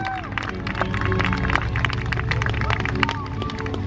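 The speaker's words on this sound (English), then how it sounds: "Good applause." Crowd at the Flying Circus Airshow in Bealeton, Virginia, applauding a Stearman aerobatic act, a steady dense patter of clapping mixed with crowd murmur and outdoor noise, fairly loud and continuous throughout.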